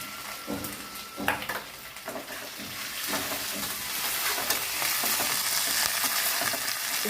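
Onions, green chillies and curry leaves fry in a pan for a tomato and chana dal curry, a steady hiss swelling louder partway through, with stirring scrapes and utensil clicks early on.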